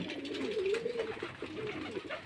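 Ghiyachandi pigeons on a pigeon farm coo in a steady, low, rolling warble, close and moderately loud, continuing throughout.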